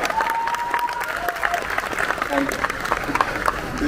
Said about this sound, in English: have a huge round of applause